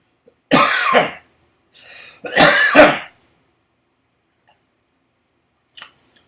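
Two short bursts of coughing close to the mic, with a quieter throat sound between them, followed by near silence and a faint click.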